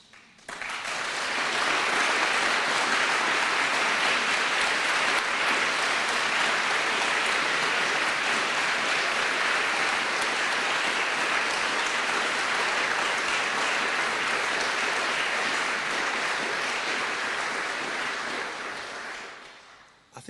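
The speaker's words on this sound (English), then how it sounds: "I think I even saw the Mayor of Liverpool clapping at that one." Sustained applause from a large audience at a Labour political speech by Andy Burnham, a dense, steady wash of clapping that swells in, holds loud for about twenty seconds, then fades, with no voices over it.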